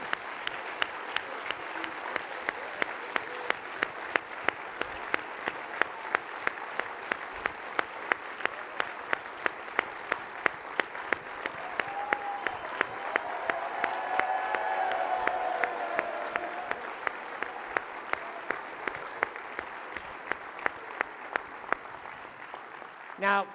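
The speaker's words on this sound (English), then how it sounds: "let us just give you a round of applause in here" A large audience at a leadership speaker event claps steadily for over twenty seconds, a dense sustained applause with a faint swell of crowd noise midway, heard from a distance.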